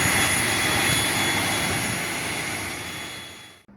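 Steady, loud engine roar from a Wings Air ATR turboprop during boarding for a flight to Ende, a continuous broadband drone with a high whine that holds throughout and cuts off abruptly at the end.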